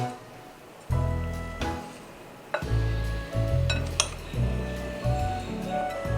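Onion pickle ingredients are stirred in a bowl with a spoon: repeated clinks and scraping knocks in an uneven rhythm, close and fairly loud, with no voice.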